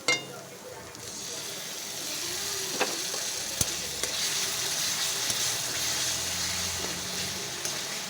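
Tomato paste hitting hot oil with frying spices in a pan for an egg curry with poppy seed and cashew paste, giving a steady loud sizzle with occasional stirring clinks, no talk.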